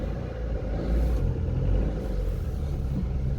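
A Hijet van's small engine idles steadily after starting, a low continuous rumble with a slight swell in the middle, close and alone without voices.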